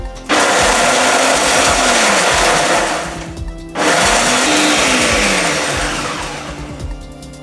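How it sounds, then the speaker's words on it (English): A blender dry-grinds dried fish and shrimp for Ghanaian shito, roaring loudly and steadily in two bursts with a short pause between, the motor pitch wavering as the contents shift. "I am going to dry blend my fish and shrimp."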